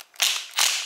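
A ratchet wrench tightens bolts on an electric ATV cart with a 72V 3000W chain-drive motor, giving two short bursts of rapid metallic clicking in quick succession, close and fairly loud with no talking.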